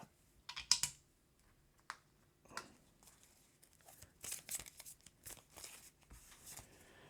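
Playing cards for the Marvel Champions card game being shuffled by hand at a table, in irregular crisp bursts of riffling and clicking card slaps, close and fairly quiet, without talk.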